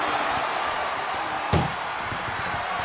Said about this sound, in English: Shut the doors and this one's over.